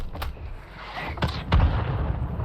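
Booming mortar strike explosions from the Warzone video game, several heavy blasts landing at intervals over a low rumbling battlefield bed, with the biggest impact late and loud.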